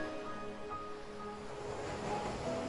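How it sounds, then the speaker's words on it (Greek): Ocean waves breaking on the shore, a steady broad wash of surf noise that swells slightly toward the end, heard under a soft sustained musical tone, with no voices. "Να ακούς τα κύματα να σκάνε στην ακτή."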